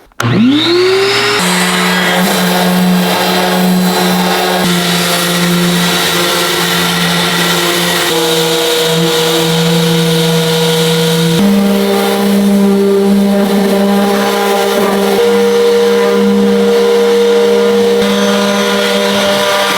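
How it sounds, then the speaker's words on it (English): An electric sander working drywall whines with a steady, high motor drone that runs too fast. It stays loud and continuous throughout, with small shifts in pitch and no voices. "The sander is going too fast and it's not adjustable"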